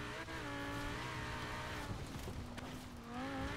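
A Ferrari GTC4Lusso supercar in a Forza racing game drives off-road, its engine holding a steady droning note that rises and dips slightly, with a brief scuffing patch midway and no voices.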